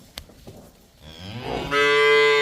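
Cattle on a farm where cows and buffalo are kept for sale, a short faint call at first, then a loud, drawn-out moo swelling close by and holding to the end.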